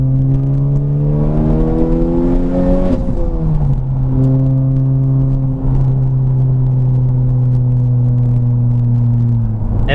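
A Honda Civic Type R FK8 is put in gear and pulls away, its engine droning steadily in a close cabin hum that climbs in pitch, drops at a gear change, then rises slowly again.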